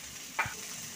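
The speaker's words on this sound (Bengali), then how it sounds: "তেল গরম হয়ে গেছে, এবার পুরটা আমি দিয়ে দেবো কড়ার মধ্যে" A spiced filling goes into hot oil in a kadai, giving one short, crisp sizzle that quickly settles into a faint, quiet fry.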